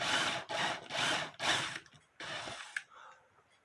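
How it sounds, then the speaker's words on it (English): Bursts of power drilling into the base of a 1982 Hummel Christmas music box held by four screws: four steady drill runs, close and loud, then a rougher run and a short sharp clack. "so I could drill this hole."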